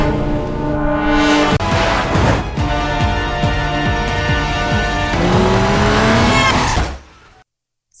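Cars race in a film chase, engines revving hard and tires squealing, loud and continuous for several seconds before cutting abruptly to silence.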